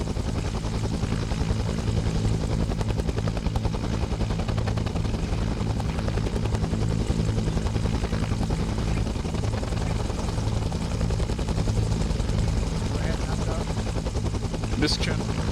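Military helicopter during a troop pickup runs close by, a loud, continuous rotor chop over a heavy engine drone that holds steady throughout, with a brief higher clatter near the end.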